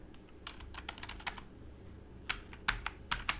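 Quiet, close computer keyboard typing while writing code, with irregular clusters of key clicks separated by a short pause, then several sharper taps.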